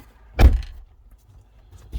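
A Jeep Grand Cherokee door opens with a single solid thunk near the start, followed by a faint second knock at the end, close and otherwise quiet.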